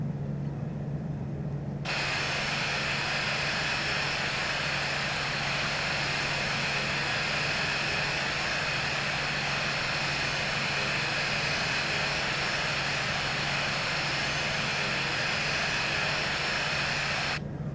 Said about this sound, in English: Your engines are still humming along.